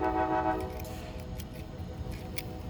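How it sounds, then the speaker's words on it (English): A steady train horn blares at the start, a sustained harmonic tone that fades over about a second, leaving rumbling train noise and a few clicks. "It's like that was a train horn."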